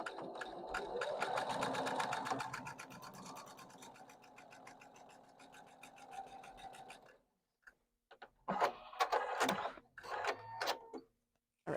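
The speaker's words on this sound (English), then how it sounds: "so I'm going to sew right on that mark line." A sewing machine stitches quilt fabric along a marked line in a rapid, even, close-up chatter for about seven seconds, then after a pause runs again in a few short bursts.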